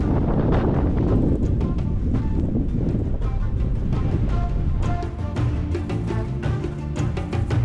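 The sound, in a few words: wind blowing over desert dunes in Mauritania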